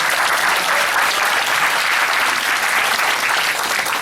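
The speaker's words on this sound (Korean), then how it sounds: "박수 부탁드리겠습니다" Steady, dense applause fills a lecture hall as an audience in Nowon's Sangye-dong claps for a visiting Bareun Party committee chairman at a political talk, a loud, even wash of many hands sustained throughout without a break.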